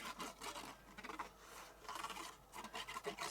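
Silver card being trimmed for a handmade card, heard as faint close rasping and rubbing strokes in short uneven bursts, with no talking.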